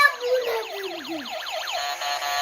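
A toy ambulance with lights gives off a thin, electronic wailing siren that repeats in quick, even sweeps. It is close, moderately loud, and plays alone for a few seconds.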